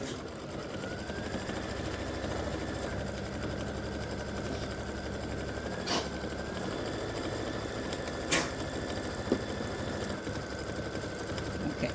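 An embroidery sewing machine stitching a placement line for a Christmas stocking appliqué, a steady close mechanical whir with a rapid needle rhythm and a few brief clicks, no voices.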